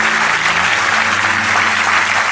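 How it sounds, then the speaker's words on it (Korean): Dense, loud applause from a large audience at the 80th Korean Police Day ceremony, honoring the families of fallen police heroes, a continuous wash of clapping with faint tonal music underneath. "수상하신 경찰 영웅 가족분들께 다시 한번 큰 박수 부탁드리겠습니다."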